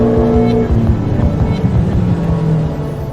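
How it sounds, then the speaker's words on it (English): A turbocharged 1.6 litre race car engine running on 102 octane fuel on a dyno, a loud, close, rough droning roar that holds steady for the whole run. "So we're going to do some more dyno runs."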